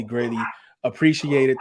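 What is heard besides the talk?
dogs barking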